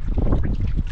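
Wind gusts across the microphone on a small fishing boat at sea, a loud, close, steady rumbling buffet with no voices.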